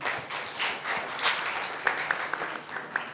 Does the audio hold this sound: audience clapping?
yes